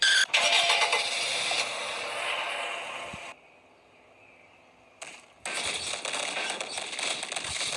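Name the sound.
car engine starting in Roblox video game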